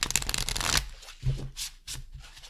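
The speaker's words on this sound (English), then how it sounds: "the overhand shuffle is also really hard to handle as well" An oversized tarot deck is overhand shuffled close up, a dense burst of riffling card noise followed by several softer slaps and swishes of cards, with no talk.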